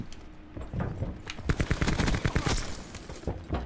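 Enemy weapons fire in the Black Ops 4 video game comes as rapid bursts of gunshots, loud crackling volleys building after a quieter start and continuing to the end.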